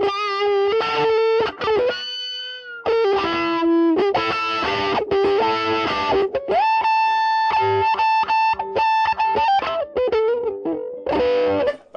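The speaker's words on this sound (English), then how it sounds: "With distortion to create a kind of different sort of lead tone" Distorted electric guitar plays a synth-like lead line with sustained, harmonically rich notes and short phrases separated by brief pauses, loud and close with no voices.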